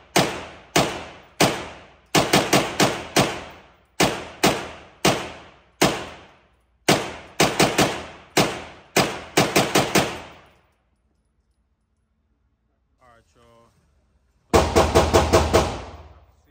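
MAC 5 firing 124 grain FMJ rounds at a range, a long series of sharp, loud gunshots in quick bursts and spaced singles, then a pause and one final rapid burst.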